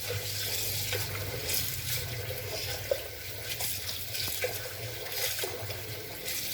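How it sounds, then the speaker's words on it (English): Running water splashes and swishes as a large batch of rice is washed by hand in a sink-like setting, a steady close flow with small knocks and no speech. "After one wash, you need to wash it again."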